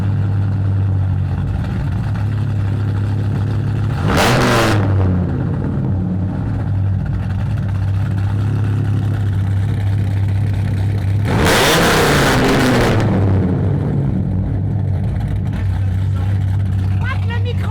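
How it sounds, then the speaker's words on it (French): Dodge Viper GTS engine idling with an uneven, lumpy burble, broken by two loud bursts of revving, the second longer, close by with background voices. "Est-ce qu'on démarre le moteur?"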